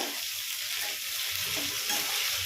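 Eggplant sautés in oil in a pan, giving a continuous close sizzle with scraping stir sounds, steady and fairly quiet with no talk.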